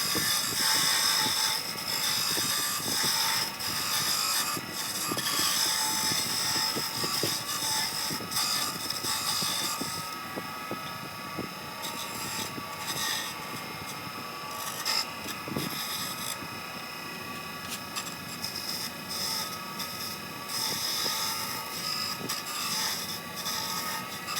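Wood lathe with a hand tool carving a flat spot about a quarter inch wide into a spinning workpiece, a steady scraping rub over continuous machine hum, close and fairly loud throughout.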